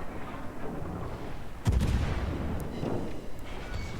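A warship's main guns fire a salvo of armour-piercing shells in a naval video game, a deep booming blast over a constant rumbling engine and sea background, with a few fainter thuds after.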